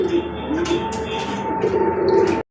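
Rajgolla pigeons coo at a pigeon farm, soft repeated throaty calls close by over a constant background hum.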